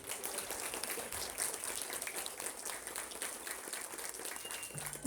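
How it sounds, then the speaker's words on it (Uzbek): School audience of pupils applauds a young student at a literature event, a faint, steady patter of many hands clapping heard from a distance. "Najmiddinov Muhammadga qarsaklar"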